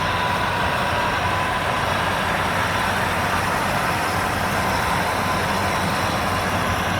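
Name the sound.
John Deere 5075e and Mahindra 755di tractors driving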